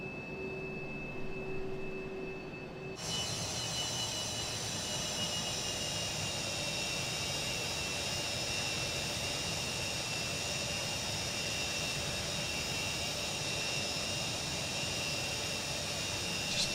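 Jet engines of an MD-80 MadDog airliner spooling up in Microsoft Flight Simulator 2024, a broadband roar that swells in suddenly and holds steady with a rising high whine, loud and continuous.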